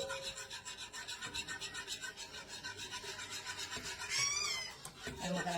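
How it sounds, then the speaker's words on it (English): A spatula stirs a milk mixture in a pot on the stove over medium heat for a strawberry charlotte russe cake, giving a steady close rubbing scrape with a regular back-and-forth rhythm. "And we're going to keep stirring until it coats the back of the spatula"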